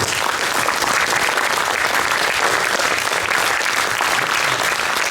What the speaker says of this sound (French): On applaudit Clairvy!